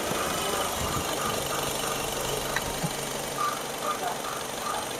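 A 2005 Nissan X-Trail idles with its radiator fan motors running, giving a steady close mechanical hum and whir under faint background voices.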